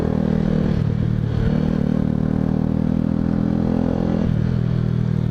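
An R125 motorcycle with an obnoxiously loud exhaust revs and idles close by, a constant heavy engine drone that swells and dips in pitch throughout.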